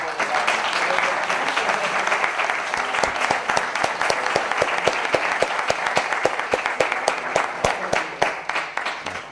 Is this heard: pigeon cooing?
no